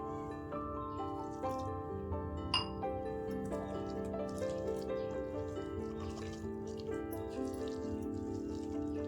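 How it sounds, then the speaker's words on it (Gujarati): Water is poured into gram flour batter for bhajiya, a faint trickle and splash in a quiet kitchen, with a faint steady background hum and a few small clinks over about nine seconds. "થોડું આપણે પાણી નાખશું।"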